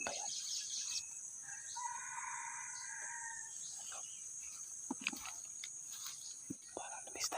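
A Talisay gamecock crows faintly once in the distance, a drawn-out call over crickets and quiet outdoor background, with soft whispered talk nearby.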